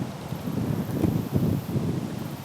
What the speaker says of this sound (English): the wind is blowing, this way basically out of the south